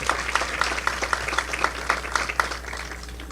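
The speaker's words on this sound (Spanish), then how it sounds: "Un aplauso para ellos también" Audience applause at an intercultural forum event, a steady wash of clapping with regular sharp claps standing out, moderately loud throughout and fading slightly toward the end.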